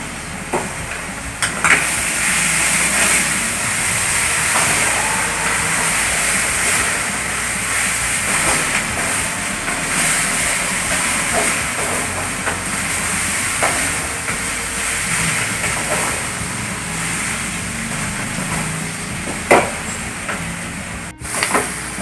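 Chopped onions and green chillies sizzle in hot oil for an egg curry, a steady close hiss and crackle holding through the whole stretch with a few sharper pops and no talk.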